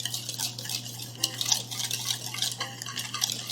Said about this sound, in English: Then we're gonna combine them with the whisk.